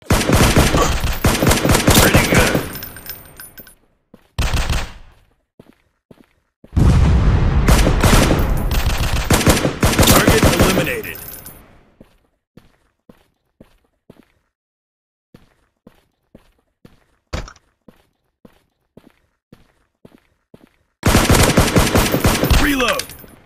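Bursts of rapid gunfire from a shooting video game, loud and dense, with several long automatic volleys separated by quieter stretches of sparse single clicks and taps.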